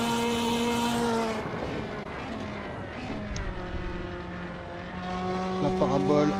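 A Ferrari Challenge race car, at Monza's 2018 Trofeo Pirelli round, sweeps through the Parabolica curve, its loud engine note falling and climbing through gear changes as it brakes and accelerates out of the bend.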